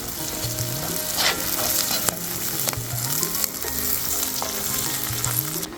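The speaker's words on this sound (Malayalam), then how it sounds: "ഇഞ്ചിയുടെ കൂടെ തന്നെ നമുക്ക് പച്ചമുളകും കൂടെ ഇട്ട് കൊടുക്കാം പിന്നെ ഇനി ഇത് നന്നായിട്ടൊന്ന് വാടിക്കോട്ടെ" Sliced ginger and green chillies sauté in hot oil with a steady, dense sizzle, broken by a few sharp clicks and scrapes from a stirring spoon against the pan.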